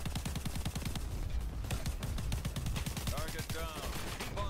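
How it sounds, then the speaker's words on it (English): Minigun fire in the video game Crackdown 3, a rapid, sustained stream of gunshots with explosive bursts layered over it, while a voice talks over the shooting. "Minigun. Just keep shooting."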